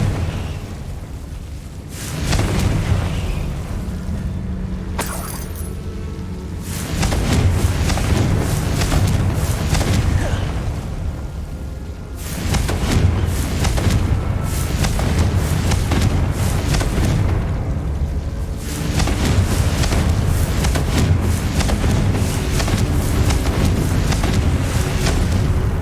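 Repeated explosive spell blasts of Confringo in Hogwarts Legacy: a series of loud booming bursts with sustained rumbling tails, recurring every few seconds across the clip, with no talking.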